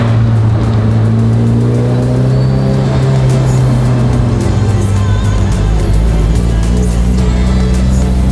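The Tokyo Drift Evo drives along a Tokyo expressway, its engine a loud, close, steady drone with gear-change shifts in pitch and road roar throughout, no speech.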